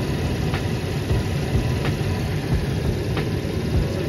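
Chevrolet Colorado engine idling steadily with the cabin heater cranked to full, a constant close low rumble with faint periodic ticks and no talking.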